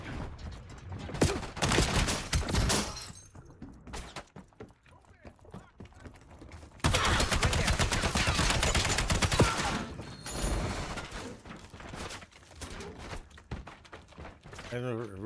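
Video game gunfire comes in bursts of rapid shots and fusillades, some stretches dense and loud, others sparse with pauses, mixed with clattering mechanical effects and occasional voice chatter.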